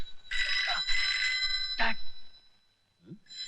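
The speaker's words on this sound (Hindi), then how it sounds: "फोन बज रहा है तेरी बोगस बाप" A telephone rings in bursts of a bright electronic trill, loud and close, with a short pause before it starts again; a brief low voice slips in near the end.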